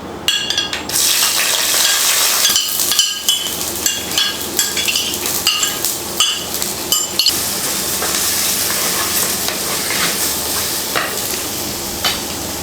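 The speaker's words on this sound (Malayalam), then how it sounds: "ചെറിയ കഷ്ണം ഇഞ്ചി ഇതേപോലെ ചെറുതായിട്ട് കൊത്തി അരിഞ്ഞതും, അതുപോലെ ഒരു 6-7 അല്ലി വെളുത്തുള്ളി ഇതേപോലെ നീളത്തിൽ കട്ടി കുറച്ചരിഞ്ഞതും" Chopped ginger, sliced garlic and small shallots fry in hot oil in a clay pot for Kerala-style mackerel curry, giving a loud, steady sizzle broken by the clinks and scrapes of stirring.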